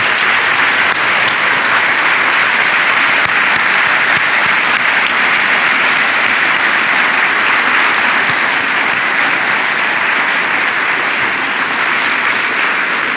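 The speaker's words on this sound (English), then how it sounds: "stand up so the rest of us can give you a round of applause" Sustained, loud applause from a large lecture audience at Kansas State University, a dense, even clatter of clapping that carries on without pause for the whole stretch.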